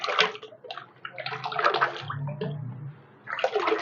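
Homemade cleaning liquid being stirred and scooped with a mug in a bucket: sloshing, splashing liquid in irregular strokes, close and fairly loud, with no talking.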